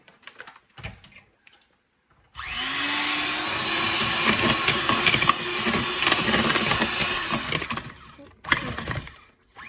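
An electric mixer creams butter and brown sugar for banana bread, whirring up suddenly and running steadily for several seconds with a rising pitch, then cutting off, with brief clatters before and after.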